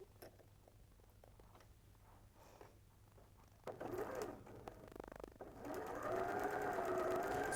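Sewing machine stitching fabric strips, a steady whirring hum that starts quietly, then grows louder and faster partway through and runs on continuously.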